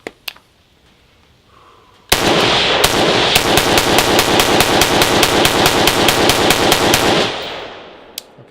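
A firearm fed from a Hexmag magazine fires 20 rounds in quick succession during a torture test, a loud, rhythmic string of sharp close reports lasting about five seconds after a single opening shot.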